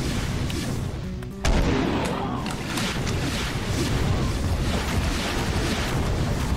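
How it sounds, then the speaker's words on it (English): A fast rocket launcher firing in Doom: an abrupt loud blast followed by sustained roaring, rumbling noise and scattered explosive thumps, with no voice over it. "this is a fast rocket launcher"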